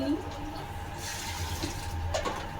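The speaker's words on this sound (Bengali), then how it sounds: "চালটা ধুয়ে নিই" Rice rinsed under running tap water in a home kitchen, a steady close splashing stream with faint clinks and a soft voice in the background.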